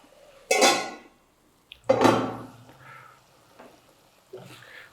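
A lid clinks onto a cooking pan holding brinjal thokku curry in a home kitchen, two short metallic clatters standing out close and fairly loud, with a faint voice in the background.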